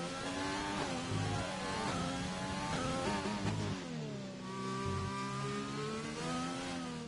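McLaren race car engine at top speed in a racing video game, a loud sustained high-revving whine with rising and falling pitch across gear shifts, continuous throughout and alone without talk.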